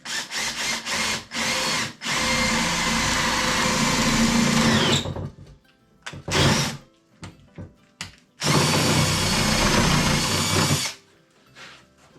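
A power drill whirs loudly in long bursts, drilling a hole freehand for a shop-made fuel dolly, stopping and starting several times with short quiet gaps and clicks between runs.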